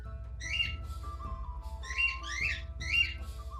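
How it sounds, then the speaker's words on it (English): Pet birds chirp indoors in short bright bursts, several quick tweeting phrases spaced across a few seconds, fairly faint over a low room hum. "all we heard was bird chirping"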